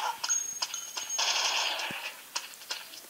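Rapid gunfire in the Counter Terrorist shooter game crackles in quick bursts, loud and close, with short pauses between volleys and no talking.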